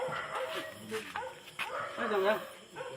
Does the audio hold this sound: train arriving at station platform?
no